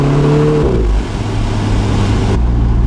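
An Alfa Romeo 4C Spider sports car engine pulls hard and loud, with a rising tone that shifts as the gears change and a steady roar held close to the microphone.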